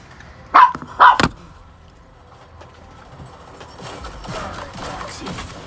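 Dogs bark in a video game boss fight, two loud close bursts near the start, then a busy wash of game effects and movement noise.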